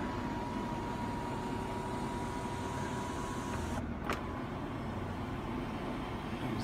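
The electric moonroof motor of a 2005 Toyota Sienna whirs steadily as the roof opens, a faint even hum under constant cabin noise that cuts off after about four seconds.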